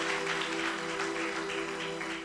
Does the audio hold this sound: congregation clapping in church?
yes